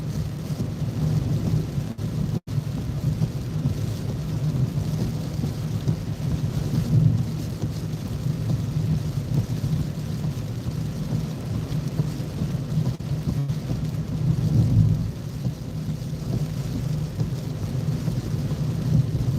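Heavy rain and gusting storm during Hurricane Idalia in Perry, Florida roar steadily around a car for a long stretch, with low rumbling surges and no talk.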